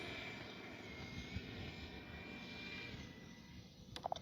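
A Freewing A-4 Skyhawk 80mm electric ducted-fan RC jet flies past with landing flaps and retracts down, a steady whining roar with a faint pitch drift, fairly distant, joined by brief clicks at the end.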